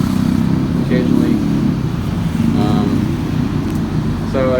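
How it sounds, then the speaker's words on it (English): A rumbly, loud motorcycle passes along a fairly big Bangkok street, its engine rising and falling over steady traffic rumble, with faint voices mixed in. "There are some rumbly, loud motorcycles that go by, like that one, occasionally."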